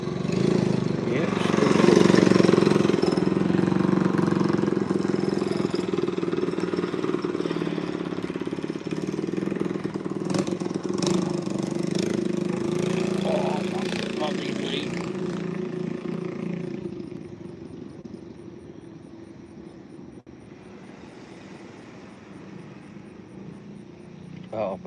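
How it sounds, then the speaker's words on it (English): Loud, pop-popping motorbike engine revving nearby outside, a rough droning roar that slowly fades and drops away over about twenty-five seconds, with people talking over it. "Someone's got a flipping pop-up motorbike by the sounds of it."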